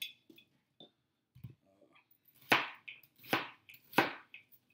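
Knife chopping food on a board during home cooking, a few light scattered taps at first, then three sharp, loud chops spaced about three-quarters of a second apart.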